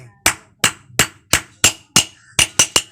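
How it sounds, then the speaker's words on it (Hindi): A bike decompressor being tapped into place with a hammer, about ten sharp metallic knocks in a fairly even rhythm, close and clear with no talk. "इसको हम आराम से इस तरह से ठोक देंगे"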